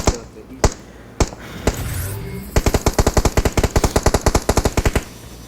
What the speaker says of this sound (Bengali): এটা অনেক দূরে স্নাইপার মারতেছে